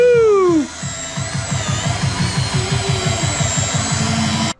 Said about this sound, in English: the edges, the hard to reach spots with the mini polisher